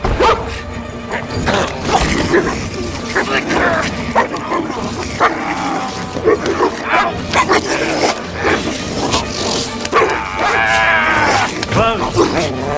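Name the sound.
dog barking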